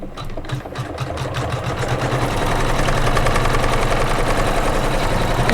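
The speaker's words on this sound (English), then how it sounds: "now I'm getting ready to do the satin stitch that goes on the outside of the Rhine." An embroidery machine sews a satin stitch around the rind of a watermelon quilt block for a Kimberbell pillow, starting with rapid rhythmic needle ticks and settling into a loud, steady mechanical drone.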